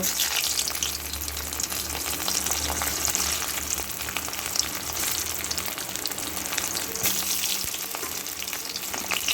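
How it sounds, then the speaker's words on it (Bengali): Potatoes fry in oil left from frying onions for chicken biryani, giving a loud, continuous close sizzle with a low hum underneath and no speech. "অন্যদিকে ওই পেঁয়াজ ভাজা তেলের মধ্যে আলুগুলোকেও একটু ভেজে নেব"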